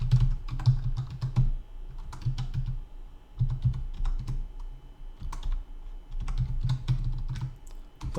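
Keys clatter on a computer keyboard in bursts of quick, irregular typing, close and clear, with short pauses between runs of keystrokes and no voices over it.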